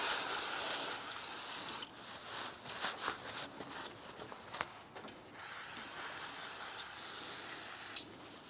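Cleaner sprays in a steady hiss to soak the splines of a CV axle on a 2002-2008 Dodge Ram 1500. The sound comes close and in several bursts with short pauses between them.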